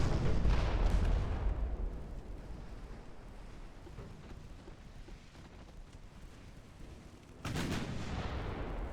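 Heavy 11-inch naval guns boom in a naval warfare video game, a loud broad blast at the start decaying into a long rumbling roar, then a second sharp report near the end.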